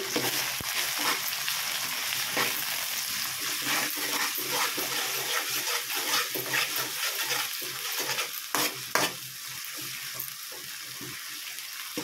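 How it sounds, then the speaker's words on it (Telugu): Curry leaves and mint fry in a pan, giving a steady crackling sizzle with occasional stirring scrapes and clatters, and no talk. "తర్వాత కరివేపాకు, పుదీనా వేసి అంతా ఒకసారి కలుపుకోవాలి."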